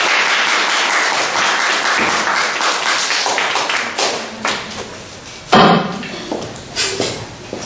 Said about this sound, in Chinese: 我们现在掌声来欢迎他们